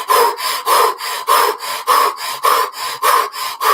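A person imitates fast, deep circular breathing in an exaggerated way, with loud close rhythmic in-and-out breaths repeating evenly about three times per second.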